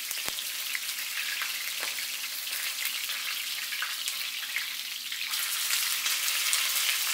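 Salmon fillets sear in a pan with a steady, close sizzle that crackles continuously and grows slightly louder near the end, with a soft tap early on.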